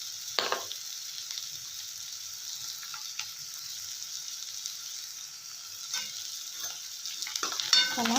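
Vermicelli upma mixture with tomato and coriander is stirred in a pan, giving a soft low sizzle with a few spatula scrapes and clinks at the start and near the end, quiet and close, without speech.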